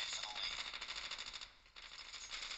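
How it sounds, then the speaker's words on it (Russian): Rapid automatic gunfire from Call of Duty: Mobile, a continuous fast rattle of shots with a short stutter midway, moderately quiet and steady throughout. "Автоматическая стрельба здесь, кстати, подтормаживает"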